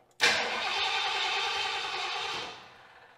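A truck engine with no gas tank installed cranks over without catching, a loud, close, continuous whirring crank lasting about two seconds before it cuts off.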